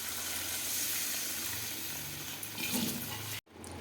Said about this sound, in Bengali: এবার আমরা পরিমাণ মতন জলটা দিয়ে দেবো।